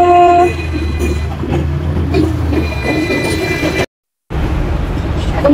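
Rumbling ride aboard a Hong Kong tram bound for Happy Valley, with loud low rolling and rattling, squealing wheel tones, and a brief cut to silence before the clatter resumes.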